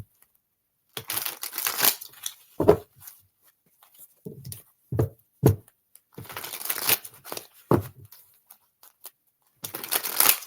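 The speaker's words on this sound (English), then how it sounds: "And I am getting called to shuffle." Tarot cards being shuffled by hand, heard as short, soft papery riffles and slaps in irregular bursts separated by quiet pauses.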